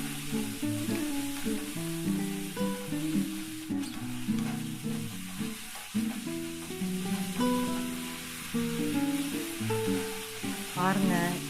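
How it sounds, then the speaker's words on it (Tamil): Torn tomato pieces sauté for chutney, a steady frying sizzle with stirring scrapes, under what sounds like tonal music throughout. "இது போல் சின்னதாக பிச்சு போட்டு வதக்கிக்கோங்க."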